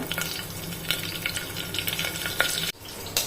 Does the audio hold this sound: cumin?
yes